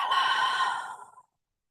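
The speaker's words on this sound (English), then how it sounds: "Exhale." A long, smooth exhale during a yoga breathing exercise in a pelvic-release class, a close, breathy whoosh lasting just over a second that fades out into silence.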